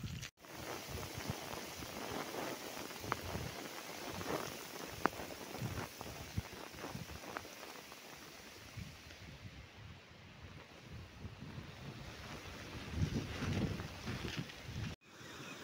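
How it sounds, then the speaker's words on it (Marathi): Heavy monsoon rain pours steadily in a forest, a dense continuous hiss of drops on leaves and ground, fairly even in loudness with brief swells, and no voices. "एकदम धुमाकूळ पाऊस आहे, धुमाकूळ जोरदार पाऊस आहे।"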